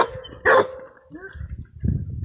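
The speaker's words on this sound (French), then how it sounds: "Voilà, c'est un bon chien." A dog gives one loud bark near the start, with softer yips and movement noise after, while a person talks nearby.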